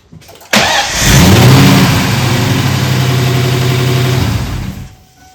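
A freshly rebuilt 1997 Mustang Cobra engine fires up abruptly and revs briefly, then holds a loud, steady idle for several seconds before cutting off.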